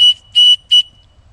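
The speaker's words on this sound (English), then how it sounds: "even the Fair Simrod has a whistle" A small whistle built into a ferro rod fire starter gives three short, shrill, piercing blasts close by, with brief silent gaps between them.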